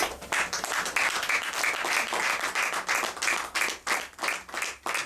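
A church congregation claps and applauds steadily during a worship service, a dense, lively burst of many hands close by with no voices standing out.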